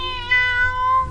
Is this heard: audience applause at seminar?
no